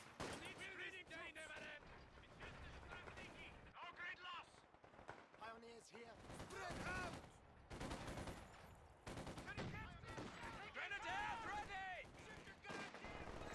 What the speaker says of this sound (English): Just with the full volley here from the half track